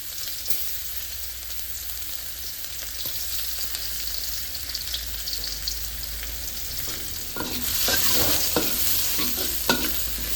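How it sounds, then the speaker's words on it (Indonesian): Spice paste of shallots, garlic and chili sizzles steadily in hot oil in a pan, with a continuous crackling hiss and intermittent scraping stirs growing busier toward the end. "Ini kita goreng bumbu untuk sayurnya."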